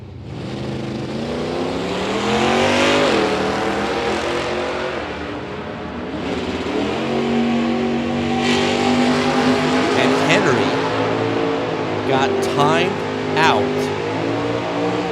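Drag race cars, a Pinto and a Mustang, launch at a bracket race with loud, rising engine roars and revving. An announcer talks over the engines.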